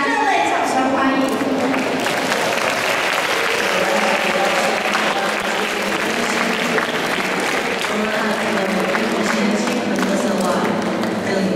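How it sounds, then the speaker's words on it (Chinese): Loud, dense applause from the audience at a high-school choir competition fills the hall and holds steady for about ten seconds. "请大家热烈掌声欢迎"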